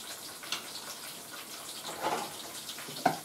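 Something being rinsed under a running kitchen tap while cooking potatoes, a soft steady splashing with a few brief louder water bursts, no voices.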